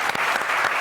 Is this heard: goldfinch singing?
no